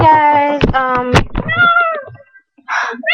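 A kitten meows several times in close succession, loud and near, with harmonic cries rising and falling and a short pause before a final rougher mew.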